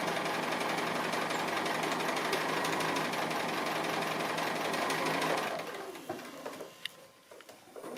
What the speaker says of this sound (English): Just free motion stitching just close to the edge, and I can skip straight onto that next shape.